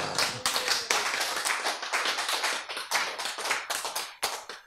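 An audience at a Korean sermon lecture breaks into dense, steady applause, many hands clapping loudly and close for several seconds before tapering off.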